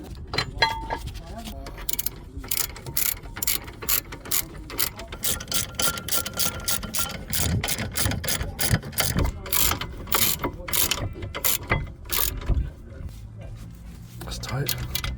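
A ratchet tightens the brake caliper bracket bolts on a 2013 Ford Focus ST-2, clicking in rapid, repeated bursts close up throughout, with brief pauses between strokes.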